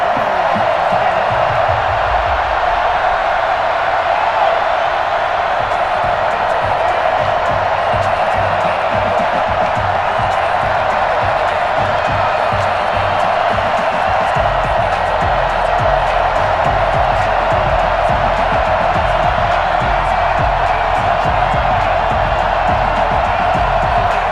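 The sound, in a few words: stadium crowd cheering at FedEx Field, video game Madden NFL 21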